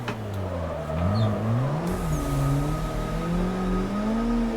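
Drift car in a sim racing game downshifting to second, coasting and clutch kicking, a loud close engine whose pitch dips, wavers and rises again, with brief sharp tire and gear noises.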